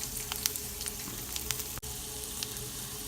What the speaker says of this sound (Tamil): மிளகாய் எடுத்தோன்னே அதே பாத்திரத்தில் பூண்டையும் போட்டு வறுத்துக்கங்க.